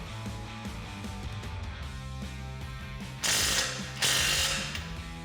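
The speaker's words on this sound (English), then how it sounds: "Now we can grab our 19mm and get it tightened down." Ratchet with a 19mm socket tightening a castle nut on a ball joint during a 4-inch lift kit install on a 2009-2018 RAM 1500, steady close clicking of the pawl throughout, with two louder, harsher bursts near the end.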